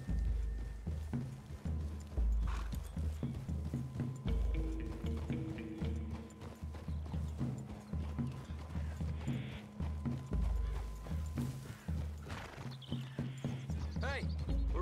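Horse hooves clip-clopping in the Red Dead Redemption 2 video game, a steady rhythmic trot heard over game music and mechanical clatter, with characters talking at moments.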